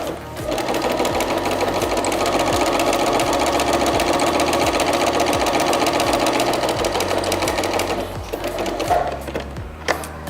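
A sewing machine stitches through sheets of paper in a school technology lesson, running loud and steady with a fast, even needle rhythm for about nine seconds before slowing and stopping near the end.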